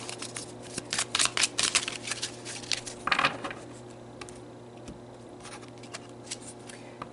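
Tarot cards are shuffled and drawn by hand, with a brief flurry of soft riffling flicks and snaps early on before fading to quiet handling against a steady background hum.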